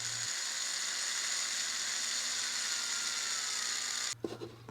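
A small drill whirs steadily at a high pitch for several seconds while boring holes in clay, then stops abruptly, followed by faint clicks and handling sounds.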